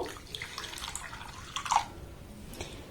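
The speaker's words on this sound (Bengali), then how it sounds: "এবার ওই একই বাটির মাপ করে এক বাটি এখানে আমি জল দিয়ে দেব" Warm water poured from a bowl into semolina in a pan, a faint, short splashing trickle with a small splash near the end.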